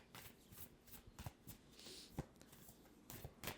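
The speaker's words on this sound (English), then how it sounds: "We're gonna shuffle up the Lover's Oracle." A deck of oracle cards shuffled by hand during a tarot reading, soft rapid riffling and repeated card snaps close up and quiet, with no talk.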